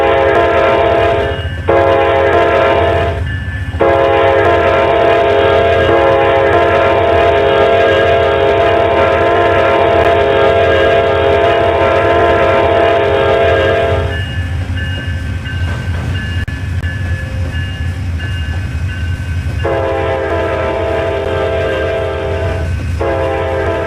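Simulated Amtrak passenger train in the Trainz railroad game, with a long, loud sustained horn blast that breaks briefly twice, drops out midway, then resumes over a steady low rumble of the moving train.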